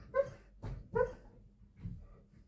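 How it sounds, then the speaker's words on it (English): A sleeping dog having a nightmare lets out soft muffled yips and whimpering half-barks, three or four short quiet bursts close by in an otherwise still room. "I think my dog's having a nightmare."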